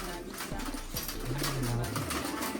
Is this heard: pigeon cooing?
yes